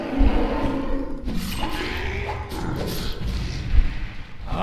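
A fireball blast in the video game Risen lands as dull, booming thumps, with a heavier hit near the start and another near the end, over a busy wash of game noise.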